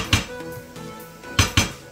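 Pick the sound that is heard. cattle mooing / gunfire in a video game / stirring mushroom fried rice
stirring mushroom fried rice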